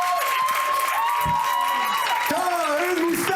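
A comedy-show crowd claps and cheers in a steady, dense wash for a show-of-hands vote, with voices and whoops rising through the applause.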